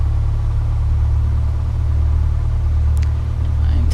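A simulated Piper Cherokee's aircraft engine runs steadily just after starting, a loud, low, droning rumble with a constant pulsing beat and a faint brief click near the end.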